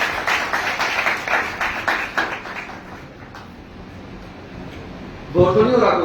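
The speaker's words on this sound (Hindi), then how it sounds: "परमेश्वर के नाम के लिए, महिमा के लिए हम ताली मारते हैं" A congregation at a Sunday worship service claps in a quick, steady rhythm for several seconds before fading, then a voice speaks near the end.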